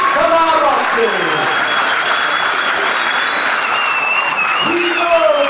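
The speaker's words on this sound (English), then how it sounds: "will you please have a big round of applause for both of our boxers" Sustained crowd applause for two boxers at a professional boxing show at the AJ Bell Stadium, dense steady clapping filling the venue while a voice talks over it and a whistle sounds.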